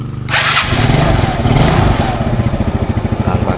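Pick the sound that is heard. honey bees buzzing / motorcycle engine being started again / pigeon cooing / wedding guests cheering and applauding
motorcycle engine being started again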